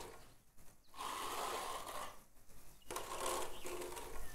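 Wire brush scrubbing rust off a part in the farming game Farmer's Dynasty 2, heard as two long, harsh buzzing passes separated by a brief pause, close and steady, with no talk.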